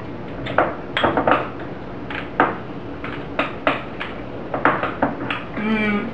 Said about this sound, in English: Go ahead and stir everything together.